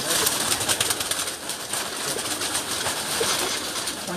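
Pigeons in a rooftop loft in Ras Al Khaimah coo softly beneath a loud, steady wash of background noise, with no talking.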